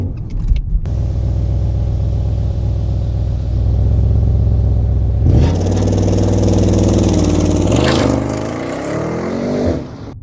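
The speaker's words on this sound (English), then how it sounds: "do launch control in the 2021 Audi RS7" A 2021 Audi RS7 holds a steady engine drone on launch control, then surges into loud, close acceleration with rising revs and a brief shift before the engine note drops away near the end.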